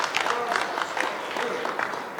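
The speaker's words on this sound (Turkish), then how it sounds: "Alkışlar olsun." Applause from wedding guests celebrating a newly married couple, a dense patter of clapping with some crowd noise, steady and moderately loud throughout.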